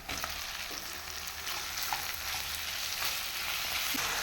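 Small chopped chicken pieces frying in a pan, a soft steady sizzle with occasional light stirring clicks, fairly quiet and uninterrupted, without speech.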